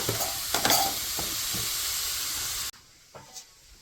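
Pumpkin sizzles loudly in a hot pan with a few stirring scrapes, then the hiss cuts off abruptly to a faint murmur.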